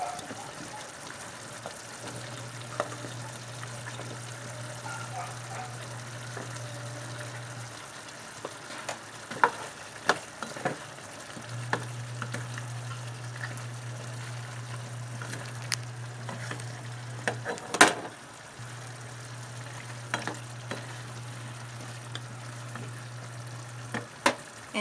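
Carrots fry in a pan for chopsuey, a low steady sizzle with occasional stirring scrapes and clinks, while an intermittent low hum drones underneath.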